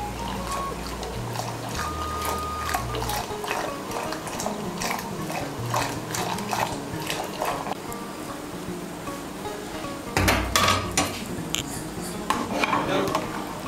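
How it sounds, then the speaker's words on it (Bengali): Boiled biulir dal is worked with a wooden dal masher in a pot, giving wet, sloshing churns and knocks against the metal, steady and close with a louder burst near the end. "একটা ডাল ঘুটনি দিয়ে ডালটাকে একটু ঘুটে দেব।"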